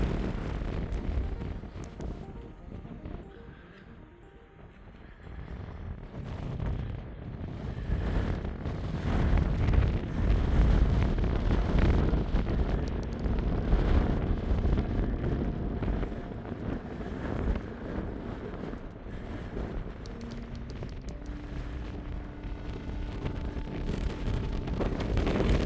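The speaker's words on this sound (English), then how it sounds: "Fairly windy." Steady gusting wind buffets the microphone on the windy summit of Glas Tulaichean, a Scottish mountain near Spittal of Glenshee, as a continuous low roar that swells and eases with no voices.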